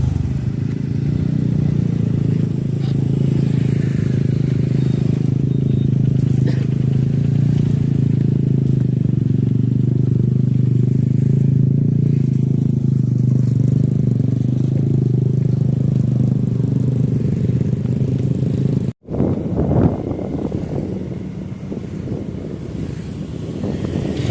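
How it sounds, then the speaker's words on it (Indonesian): A steady motorcycle engine drone with heavy wind buffeting on the microphone, continuous throughout, with a brief cutout near the end. "sekarang kita sedang naik motor ke arah barat ya"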